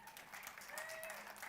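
Audience applause for a speaker at a talk, a steady wash of clapping that fills the whole moment at moderate loudness, with some voices mixed in.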